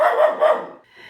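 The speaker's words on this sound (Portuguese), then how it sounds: "o cachorrinho entrou aqui dentro latindo" A small dog barks indoors, two sharp close barks in quick succession followed by a fainter yip.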